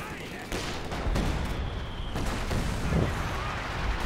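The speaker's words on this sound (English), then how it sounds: "Howitzer firing over here" Howitzer artillery firing in a Company of Heroes 2 match amid a noisy battlefield, with several heavy booms and crackling gunfire scattered through, and a commentator talking over parts of it.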